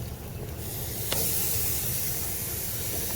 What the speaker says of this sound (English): I'm going to go ahead and put my T-bones on.